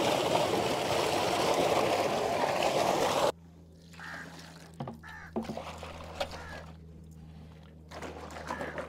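Water gushes loudly for about three seconds while a blanket is washed, then cuts off, leaving a low steady hum with scattered knocks and splashes.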